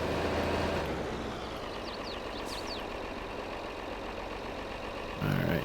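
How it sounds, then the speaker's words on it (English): Tractor engine in Farming Simulator 22 drones at a steady mid-low rumble throughout, turned down in the mix but continuous, with a brief louder swell near the end. "the tractor noise isn't as dominating as it was"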